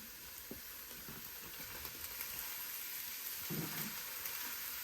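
Pork mince sizzling and frying in a hot pan for a dirty macaroni dish, a steady broadband crackle with a brief louder burst of stirring or movement midway.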